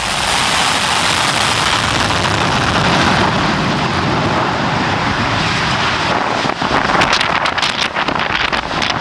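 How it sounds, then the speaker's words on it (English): A loud, continuous roaring blast of rushing air and engine noise, dense and unbroken, easing slightly near the end. "a dramatic example of jet blast power"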